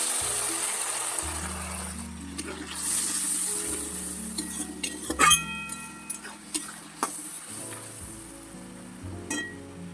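Spices with turmeric and chili powder frying in oil in a pan, a soft steady sizzle with occasional utensil stirs and clinks, close but quiet, with no talking.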